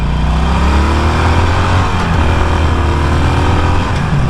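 A Harley-Davidson Forty-Eight Sportster 1200 motorcycle roars continuously at full throttle, a steady loud engine drone with rising pitch, heavy wind rush underneath, no talking.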